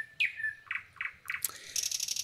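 A nightingale sings alone at moderate distance, a quick series of bright, melodic whistled phrases and chirps separated by brief pauses, ending in a rapid buzzy trill.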